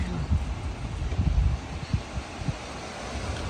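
Strong wind buffets the microphone with low rumbling gusts and a steady rushing roar, punctuated by sharper thumps of gusting air.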